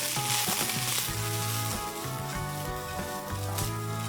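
Red and green cabbage tossed into a hot wok over golden fried garlic. Loud, steady sizzling and frying runs throughout, broken by the scrape and clatter of stirring and tossing, with a low tonal hum underneath and no voices.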